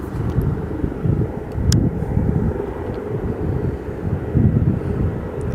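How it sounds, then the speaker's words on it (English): An Airbus helicopter at an airport starts up close by, giving a continuous loud low-pitched engine roar and rumble that holds steady throughout, with some wind buffeting. "Got an Airbus helicopter down in this corner close to me, started up."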